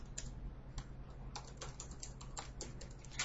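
Keystrokes on a computer keyboard while a username and password are entered, a quiet, close run of irregular clicks over a low steady hum.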